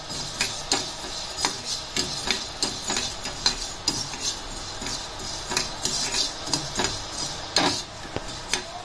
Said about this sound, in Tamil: நம்ம வந்து ஜீரகம், வரமிளகாய், கொள்ளு எல்லாம் வந்து வறுத்து